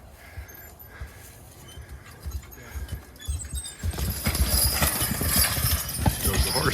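Belgian heavyweight horses drag big timber logs up a steep hill, their hooves clopping and thudding irregularly close by, with rising scraping and rustling noise building toward the end.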